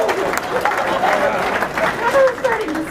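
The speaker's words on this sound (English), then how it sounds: "Give a big round of applause to Brandon" Audience clapping and cheering at a live comedy show, a moderate burst of applause with crowd murmur and a voice speaking over it.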